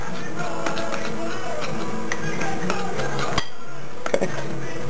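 Metal utensil clinks and scrapes against a bowl while dry seasoning with black pepper is mixed for BBQ ribs, a steady run of small close taps and clatters over faint room noise.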